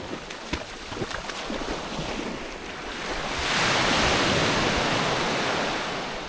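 Pacific Ocean surf at a beach campsite on Catalina Island, a continuous rushing wash that swells louder midway as a wave breaks, with wind buffeting the microphone.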